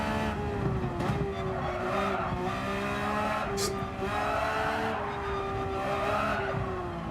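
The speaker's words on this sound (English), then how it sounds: "Let's try and drift it round through 130." In Gran Turismo 7, a race car drifts through a bend with a high, sustained tyre squeal over a droning engine note that rises and dips as the slide goes on. The sound is loud and continuous, with no talking.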